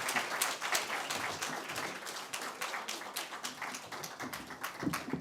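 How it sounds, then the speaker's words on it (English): A seated audience at a healthcare conference applauds steadily, dense even clapping that carries on throughout without a break. "Big round of applause for Millicent and team."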